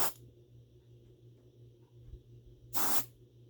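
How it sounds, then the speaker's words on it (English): Two short bursts of aerosol smoke-test spray hiss at a smoke detector, one at the start and another a few seconds later, over a low, quiet electrical hum. "I'm going to spray my smoke spray and give it a test"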